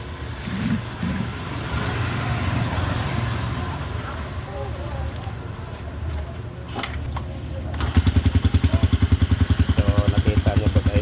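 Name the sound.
Rusi 150 motorcycle engine starting and running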